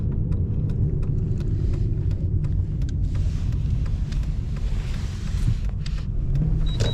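Inside a rear-wheel-drive Lexus LS430 with a 300-horsepower engine cornering on a snowy road, a steady low cabin rumble and road noise carry throughout, with faint ticking and crunching over the top.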